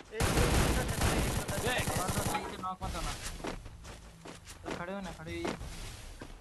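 Dense, loud gunfire from a sniper rifle, an AWM, in the Free Fire video game fills the first couple of seconds, then a player talks over fainter game sounds.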